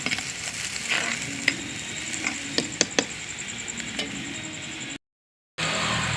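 Onions, garlic and green chillies sautéing in a clay pot: a low, even sizzle broken by scattered scraping clicks from stirring, briefly cutting to silence near the end.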